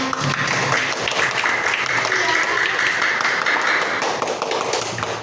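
A crowd of children claps and cheers together in a sustained burst of applause that stays steady and fairly loud throughout.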